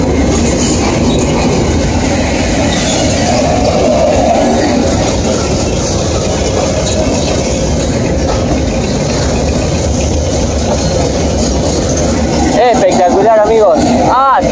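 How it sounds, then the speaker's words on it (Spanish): An Urquiza Cargas freight train with three locomotives hauling empty stone hopper wagons rumbles past near Chajarí, a loud steady rolling roar with clattering wheels and a brief wheel squeal near the end, while someone speaks over it. "la titular, con tolvas piedreras vacías"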